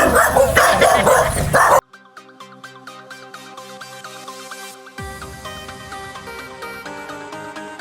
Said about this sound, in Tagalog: Naku, dami palang aso.